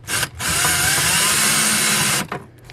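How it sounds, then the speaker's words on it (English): A power drill drives a self-tapping screw into thin metal, heard as one steady, loud, close whine of about two seconds with a brief start and stop at each end and no talking. "I am going to go ahead and attempt to put a screw in. This is a self-tapping screw, which means you shouldn't have to pre-drill."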